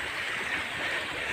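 Falling water from a waterfall in a wildlife sanctuary, an even, unbroken hiss and rush of cascading water, fairly soft and alone without speech.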